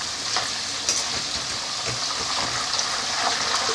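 Loud, continuous crackling sizzle of water hitting hot frying oil while making banana chips, close up, with scattered pops and spits throughout.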